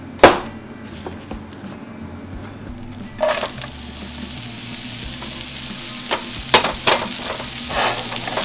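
Chicken breast sizzling and frying in a pan, a steady crackling hiss throughout with sharper bursts and stirring clatters near the start and toward the end; no talking.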